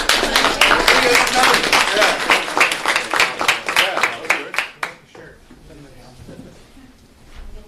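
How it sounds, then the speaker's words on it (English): A crowd at an outdoor political rally in Miami applauds in a loud, dense burst of clapping for about five seconds, which then stops abruptly and leaves quiet background murmur. "let's give them a good round of applause"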